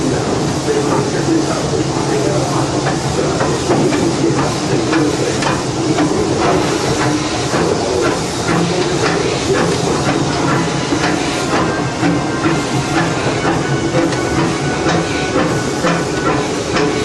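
A Disneyland Railroad steam locomotive works under throttle: loud, continuous hissing steam and rhythmic mechanical clanking run through the whole stretch, close and steady, with someone talking over it.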